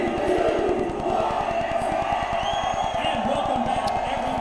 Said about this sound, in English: they did the 3-2-1 cheer thing